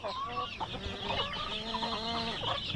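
Chickens on a farm clucking in a lively overlapping chorus, several birds close by with repeated short calls and warbling cackles, continuous throughout.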